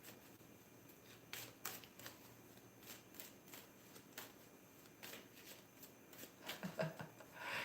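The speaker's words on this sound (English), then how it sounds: "You're trying to shuffle Uno cards." A small deck of Uno cards is shuffled by hand in a quiet room, giving a series of soft, quick riffling bursts that build into a denser flurry near the end, with no talking.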